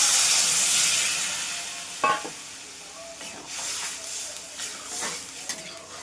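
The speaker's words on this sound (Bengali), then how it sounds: "এবার জল দিয়ে দিচ্ছি।" Water poured into a pan of frying rohu fish with cumin: a loud hissing sizzle that slowly fades, broken by a few sharp clinks and stirring scrapes.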